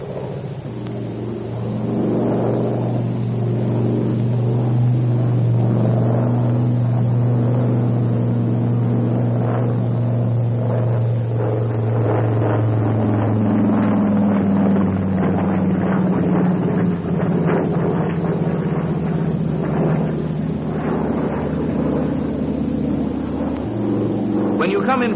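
The engine of a Brewster SB2A Buccaneer dive bomber drones in a vertical bank at 170 knots, a loud, continuous low rumble whose pitch slides slowly downward, heard close throughout with steady wind buffeting.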